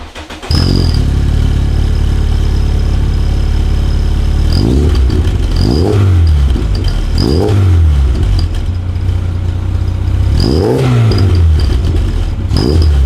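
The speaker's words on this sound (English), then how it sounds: "so let's start the car." A budget car fitted with cheap performance mods starts up and idles loudly, then takes several sharp revs in spaced bursts over a steady engine rumble, close by with no talking.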